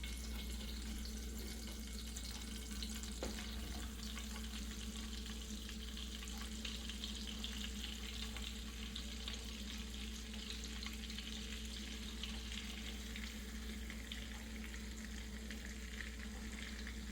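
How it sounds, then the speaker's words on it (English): Low, steady frying sizzle of chicken in butter running throughout, soft and even, with a constant background hum and no voices. "we are going to start frying the chicken"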